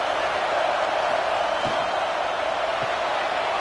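Football stadium crowd roaring steadily behind the home defense on a third down, a dense, continuous wall of cheering with a couple of faint thumps underneath.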